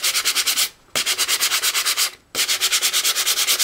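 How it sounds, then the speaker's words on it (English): A nail file rasps across the raised embossed image on a papercraft card in quick, rhythmic back-and-forth strokes, close and loud, in three bursts broken by two short pauses. "just using any old nail file, is just filing that raised image just to expose the pattern"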